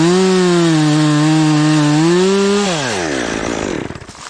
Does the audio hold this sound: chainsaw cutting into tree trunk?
yes